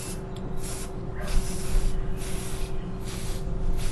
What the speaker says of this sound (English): Did you ever use a can of spray paint before?